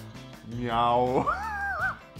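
A voice imitates a cat's meow, one drawn-out rising-then-falling cry over about a second and a half, up close, with other voices and game noise in the background.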